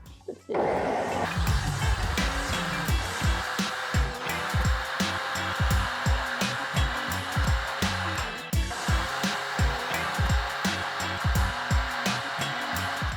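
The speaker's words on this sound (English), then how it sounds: "And now we're going to blend it." Blender running on a lime juice sauce for aguachile, a loud continuous motor whir with rhythmic knocking pulses, starting abruptly and holding steady.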